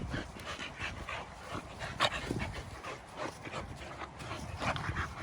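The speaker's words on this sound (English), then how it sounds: "Even though it's puppy play, I break it up after a while." Two puppies play together during a new-dog introduction, panting rapidly with small whimpers and yips, close and lively in short uneven bursts with scuffling between them.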